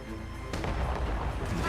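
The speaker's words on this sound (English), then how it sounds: "Broadsides." A ship fires a cannon broadside in the video game Assassin's Creed Rogue, a sudden deep booming burst that rolls on as a rumbling barrage, loud and close.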